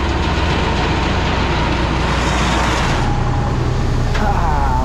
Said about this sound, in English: Ah, loading out of an auger.